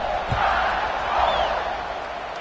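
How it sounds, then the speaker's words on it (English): A football stadium crowd buzzes after a score, a broad steady roar of many voices at a distance, continuous and fairly loud with no single voice standing out. "this crowd is buzzing after that last score"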